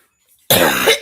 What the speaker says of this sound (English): And I love how my cough is back.